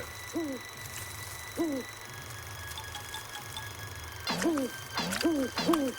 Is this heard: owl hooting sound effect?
yes